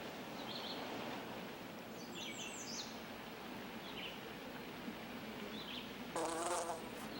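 Steady wasp buzzing at oozing alder sap fills the air, a dense continuous drone with faint bird chirps scattered over it and a brief louder rasp near the end.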